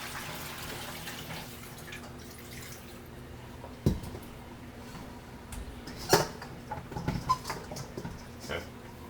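Eggplant being washed under running water: a low, steady wash of flowing water, with a few sharper knocks and splashes as the vegetable is handled, fairly quiet and close.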